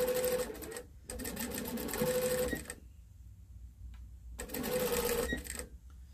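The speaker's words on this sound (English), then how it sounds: "I usually just sew straight across the bridge of the nose till I get to the other side." A sewing machine stitches across the face of a fabric memory bear in close, loud rapid bursts. Three runs of stitching are separated by short pauses.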